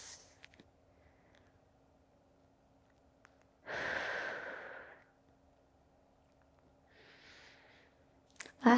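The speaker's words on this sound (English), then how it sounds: "Two more deep breaths." Deep, slow breaths during a yoga quad stretch, a long airy exhale standing out alone in a quiet room, followed by a softer breath and a brief close noise at the end.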